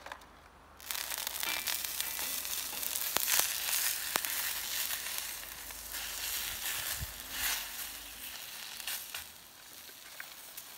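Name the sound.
lobsters grilling flesh-side down, sizzling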